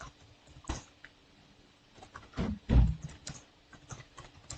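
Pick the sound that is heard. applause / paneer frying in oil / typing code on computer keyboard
typing code on computer keyboard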